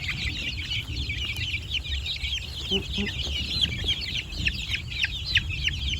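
A flock of nearly 200 free-range domestic chickens clucks busily at feeding time, a dense, steady chorus of overlapping calls close by with a low rumble underneath.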